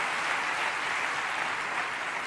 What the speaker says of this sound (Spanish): Pido otro aplauso